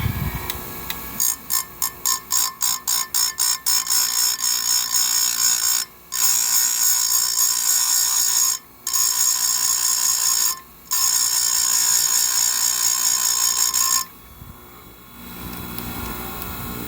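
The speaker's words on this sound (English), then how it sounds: "I'm actually flexing the grinder over to it to bring that back up" A bench grinder, bought broken for $50, sharpening a chainsaw chain, producing rapid rhythmic grinding bursts tooth by tooth, then a sustained loud grind broken by brief pauses, ending in quieter motor whir.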